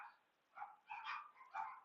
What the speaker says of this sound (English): got my dogs going crazy back here